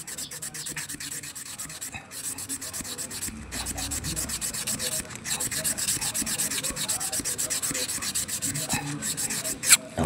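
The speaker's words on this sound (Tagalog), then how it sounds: "tirahin natin ang liha na hindi magaspang" Steady back-and-forth rubbing of fine sandpaper on a surface, close and continuous, with a brief sharper scrape near the end.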